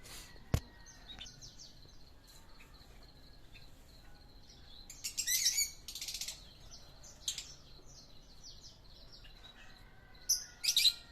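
Small ornamental finches such as waxbills and butterfly finches chirp in a morning aviary reserve, with sparse, short high-pitched tweets that come in brief clusters over a quiet background.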